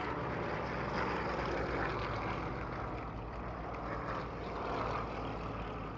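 Propeller aircraft passing low over the Texel airshow, a steady loud drone of engines filling the air without a break and swelling slightly as they go by.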